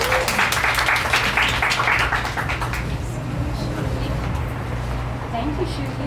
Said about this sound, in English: Can we have a round of applause for Fariha?